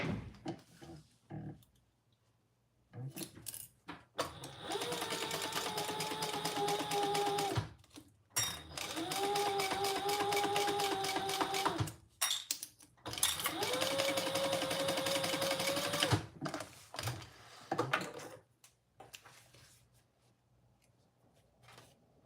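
A sewing machine stitches a bag seam in three loud bursts of rapid whirring, separated by short pauses with soft handling clicks and a quiet voice.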